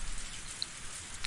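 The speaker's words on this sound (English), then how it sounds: "and a heavy rain started pouring down." Heavy rain pours in the Higurashi visual novel game, a dense, even hiss of falling water with a faint drop or two standing out, heard alone at low level.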